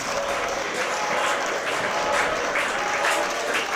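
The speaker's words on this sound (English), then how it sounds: "Crowd showing their appreciation" A crowd at a pro wrestling show applauds steadily, a dense, even patter of many hands clapping that carries at a constant level throughout without a break.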